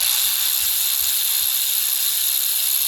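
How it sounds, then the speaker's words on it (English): A ratchet wrench loosens 10 mm bolts on a Mazda CX-9 engine cover, giving a continuous fast clicking whir that stays close and steady throughout, with no voices. "So now you just take out the remaining bolts here. These are 10s. Loosen them up"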